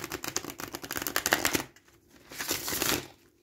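A 78-card tarot deck shuffled close up, a dense run of rapid papery riffling flutters followed by a brief pause and a second softer burst of shuffling, with no voice.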